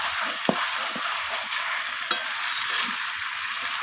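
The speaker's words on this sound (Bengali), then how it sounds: "চিনিটা দিয়ে আমি আবারও কষিয়ে নিচ্ছি।" Chicken being sautéed with sugar in a pan for a chicken-and-peas curry: a steady, bright sizzle of frying, broken by a few sharp clinks and scrapes of a spoon stirring, close and alone with no voices.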